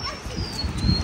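A dog whimpers with a thin, high whine, brief and close, over scuffling background noise.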